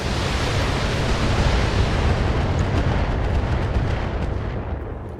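Missile salvos and explosions from the Battletech video game roar as a dense, continuous rumble that stays loud and steady, slowly easing toward the end.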